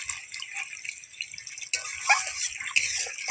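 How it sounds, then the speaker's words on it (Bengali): Water poured into a spiced potato and fish curry cooking in a pan, a close, steady trickle and splash with no voices. "দিয়ে দেবো আরও একটু জল।"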